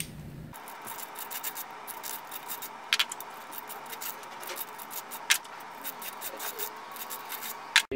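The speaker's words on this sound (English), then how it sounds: "just gently go around inside, take off any burrs" Light scraping and rubbing of a deburring tool around the inside ends of aluminium tubes for a Rubbermaid housekeeping cart, a soft continuous rasp with a few sharp clicks, close and quiet.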